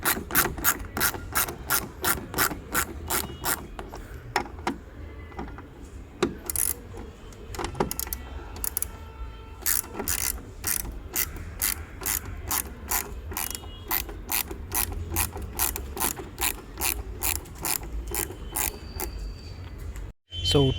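A ratchet wrench spins out T30 Torx bolts holding a car headlight on a Polo, Fabia or Jetta, giving a long run of rapid, evenly spaced clicks close to the microphone, with short pauses partway through and a clunk at the end.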